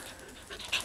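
A dog gives a single brief, close vocal sound, a short yelp or bark rising out of faint background noise.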